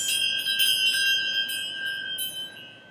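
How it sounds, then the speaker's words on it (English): Small healing bells ring out close and clear, several bright struck tones with long shimmering sustain that layer and slowly fade. "Little bells"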